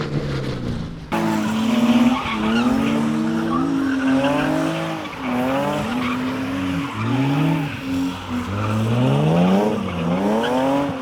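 A BMW drifting in tandem with another car, tires squealing in long wavering screeches with engine revving, loud and close, running continuously with shifting pitch throughout.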